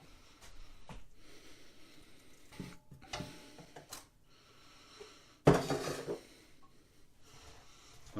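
Kimchi being mixed with blended chili paste in a bowl at home, giving soft, intermittent clinks and scrapes of utensils against the dish, with one louder clatter near the middle, close and fairly quiet.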